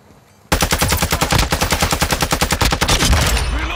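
Sustained automatic gunfire in Call of Duty, loud close rapid shots in an even stream of about twenty rounds, beginning abruptly after a short quiet lead-in and ending in a brief ringing tail.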